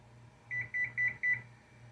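A kitchen timer being set sounds four clear, evenly spaced electronic beeps, close and loud over a low steady hum.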